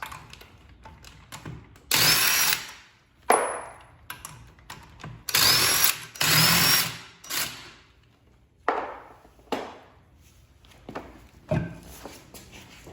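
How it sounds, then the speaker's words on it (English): Lug nuts being removed with a lock key from the wheel studs of a Fiat 500 Abarth in a garage, with repeated loud bursts of an impact or power tool whirring, interspersed with clanks and quiet handling noises. "I'm going to use the key here to remove the lug nuts"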